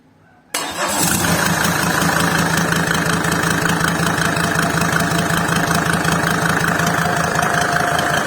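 A Mercedes OM605 2.5 turbodiesel engine with a mechanical fuel pump cranks and fires up suddenly after a quiet moment, then settles into a loud, steady, knocking diesel idle heard up close.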